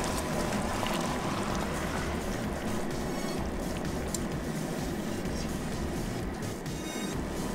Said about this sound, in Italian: poi aggiungo dell'acqua che vado a coprire la metà dello spessore della spigola